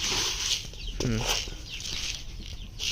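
Free-range desi chickens at feeding time flap their wings in short bursts and give a few clucks and squawks, with one louder call near the middle, all close by against soft background noise.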